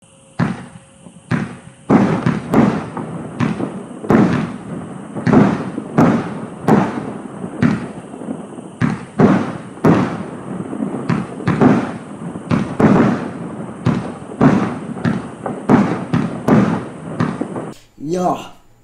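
A Punakone firework rocket battery fires off 54 shots in a rapid, steady string of launch thumps and pops that runs almost unbroken for about eighteen seconds before stopping.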